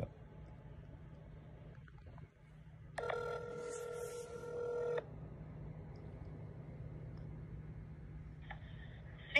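Phone call to a hospital: a quiet line hum, then about two seconds of a bright ringing or dial tone, and later a short fainter tone, with no one speaking.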